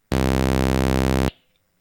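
A single-cycle waveform looped on an Elektron Tonverk sampler drones as a loud, harsh, buzzy sustained tone with a fast steady pulse, cutting off abruptly after about a second into a faint tail.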